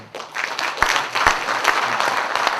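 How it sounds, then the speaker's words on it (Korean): Audience at a union meeting claps to approve a budget, a burst of applause from a seated crowd with a few sharper individual claps standing out, steady through the moment, no voices over it. "예산안에 대해서 이견이 없으면 박수로 승인해 주시기 바랍니다"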